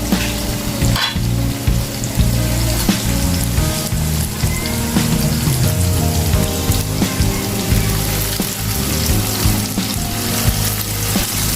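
Chicken for kala bhuna cooking in a pan over medium heat, a loud, dense, continuous sizzle and crackle that fills the whole stretch without pause.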